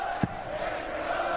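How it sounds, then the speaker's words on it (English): Darts crowd standing and singing at a World Grand Prix match, a steady distant chant filling the hall, with a brief thump near the start. "the crowd still there, they're still standing, they're still singing"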